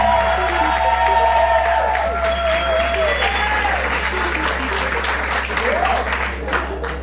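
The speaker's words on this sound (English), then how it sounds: "Keep that applause going for contestant 13," At a live pageant, an audience keeps up sustained applause for a finalist, with scattered cheers and whoops rising from the crowd over continuous clapping and a musical backing.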